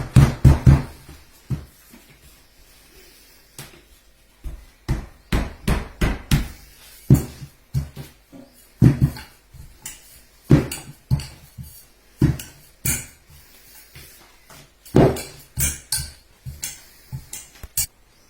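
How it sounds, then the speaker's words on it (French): A knife cuts and taps against a board while trimming puff pastry dough into a rectangle, a series of sharp, irregular knocks with quiet gaps between them. "je vais essayer de couper un petit peu pour me faire un beau rectangle"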